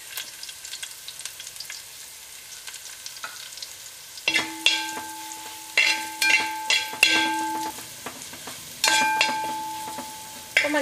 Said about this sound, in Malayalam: ഇഞ്ചി പച്ചമുളക് ഇട്ടിട്ട് വഴറ്റിയെടുക്കാം.